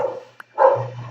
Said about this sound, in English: that's my dog downstairs